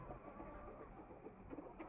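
Chickens and a rooster cluck softly in a backyard coop, a low continuous murmur of fowl sounds heard close with no one speaking.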